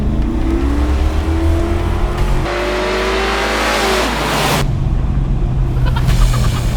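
A 1969 Plymouth Satellite with a Hemi V8 revving hard, loud and close, the pitch sweeping up through gears, then a brief drop and another aggressive rise with a deep rumbling undertone.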